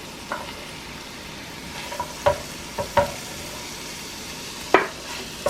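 Thin half-moon slices of chorizo fry in a paella pan with a soft, even sizzle, broken by several scattered scrapes and clinks as a utensil stirs them around.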